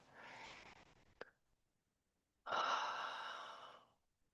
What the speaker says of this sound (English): inhale through your nose, long deep exhale through your mouth